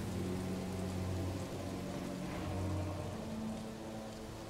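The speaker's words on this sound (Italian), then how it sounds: "la pioggia è un po' bruttina" Rain falls steadily in the video game Marvel's Guardians of the Galaxy, a soft, even wash of drops with a faint low hum beneath, quiet and continuous.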